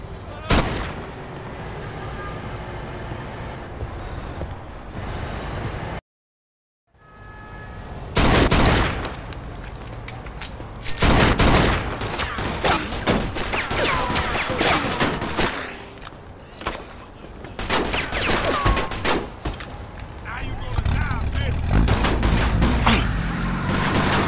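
Gunfire in the video game Mafia 2 comes as repeated sharp shots and bursts of rapid fire, with one brief total silence early on, then a loud, dense exchange of booming shots.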